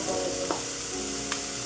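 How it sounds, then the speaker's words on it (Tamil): Food sautéing in a pan makes a soft, continuous sizzle, with two brief scrapes of a utensil against the pan over the short stretch. "கொஞ்சமாக வதக்கணும்."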